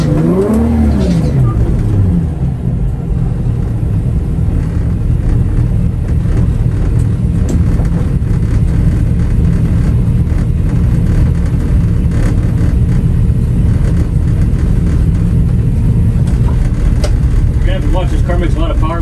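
A supercharged VR6-swapped VW Mk1 Golf on a drag run, a loud, sustained engine roar that climbs through revs with gear changes, heard from inside with talk over it.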